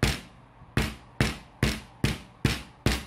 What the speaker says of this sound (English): This is an impact gun, impact hammer.